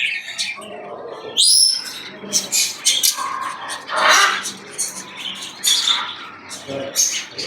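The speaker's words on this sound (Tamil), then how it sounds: "இந்த ஒரு குருவி இருக்குது" Birds in a pet store, including a sparrow, chirp and squawk in quick, irregular bursts close by, over a busy background with some voices mixed in.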